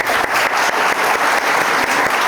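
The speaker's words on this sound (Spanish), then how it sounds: "Por favor, fuertes aplausos para él." Audience at a mathematics lecture applauds the speaker, a loud, dense burst of clapping held evenly across the whole moment.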